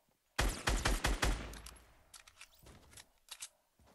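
Fortnite Battle Royale gunfire, a rapid burst of loud automatic shots that fades into scattered echoing reports and a couple of later distant shots.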